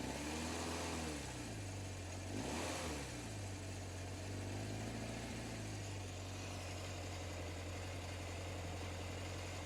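1977 Honda CB750 motorcycle engine idling steadily just after a cold start, a constant low drone with a couple of short throttle blips near the start, heard alone and fairly distant.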